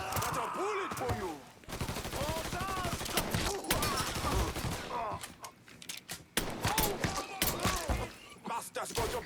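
Rapid gunfire in the video game Mafia III, with bursts of automatic shots and single cracks in irregular clusters, close and loud, mixed with shouted character voices and game sound between the volleys.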